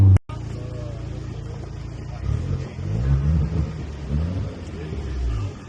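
A non-running Alfa Romeo Mito Quadrifoglio Verde, bought at auction for £250 and brought back to life, idles with a loud, rough exhaust drone that swells as the engine is revved, heard close up after a brief thump.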